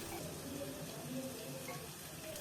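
Wheat-flour gulab jamun dough balls fry in hot oil over a low flame, a steady soft sizzling hiss that holds evenly from start to finish with no voices.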